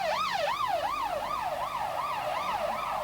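An ambulance siren wails in a fast, rising-and-falling rhythm, loud and steady throughout over faint traffic rumble, at a shooting scene in south Belfast in 1992.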